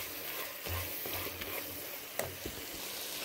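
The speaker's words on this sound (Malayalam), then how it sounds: "ഇനി ഇതൊക്കെ നന്നായിട്ട് വഴറ്റിയെടുക്കുക" Beef for biryani sautéed in a pan gives a faint, steady sizzle with scraping stirs and a couple of brief knocks of the utensil against the pan.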